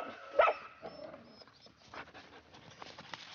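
A hunting dog on a sable-hunting trip in snowy taiga gives one sharp nearby bark, followed by faint scattered yelps and rustling.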